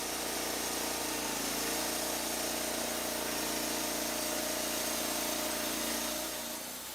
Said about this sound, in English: The LumberPro's single-action, multifunction operator's control simultaneously throttles up the engine, engages the clutch, and turns on the water loop.